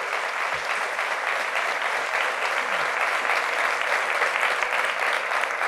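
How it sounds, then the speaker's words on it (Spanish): A church congregation breaks into loud, sustained applause in praise during a Spanish-language sermon, dense clapping holding at an even level throughout. "Fuertes aplausos al Rey de Reyes"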